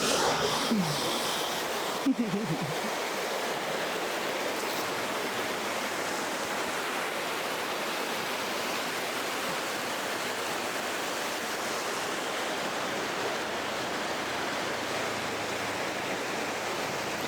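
Steady, loud rushing water of a creek flooded by Hurricane Helene fills the whole stretch, a dense broadband roar, with a brief knock near the start.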